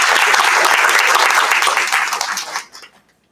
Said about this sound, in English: Let's clap for Genesis.